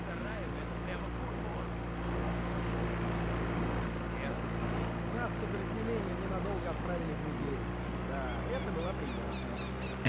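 A boat engine passes in the video game Sniper Ghost Warrior 2 as a steady, low droning rumble that holds for the whole stretch, with game voices talking over it.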